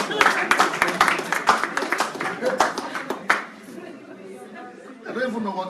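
A burst of rapid hand clapping fills the first few seconds over chatter, then fades out and leaves a voice talking quietly.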